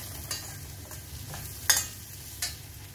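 Onions with coriander and curry leaves get stirred in a pan, a quiet low sizzle under a few sharp spoon scrapes and taps, close and without talk.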